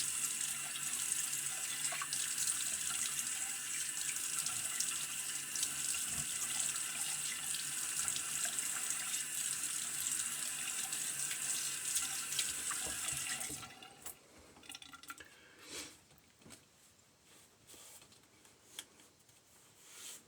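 A tap runs steadily as a Gem Junior safety razor from around 1912 on a titanium handle is rinsed, a close continuous splashing hiss that stops abruptly near the end, leaving faint handling clicks.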